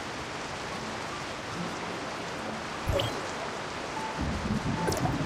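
Steady broadband rain hiss in the video game Tower of Fantasy, continuous and moderately loud, with a couple of brief low thumps partway through and no talking.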